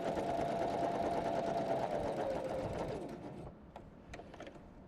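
A Janome 500 or 721 sewing machine runs a zigzag stitch with a steady, close motorized whir and rapid needle chatter, then slows and stops, leaving a few light clicks.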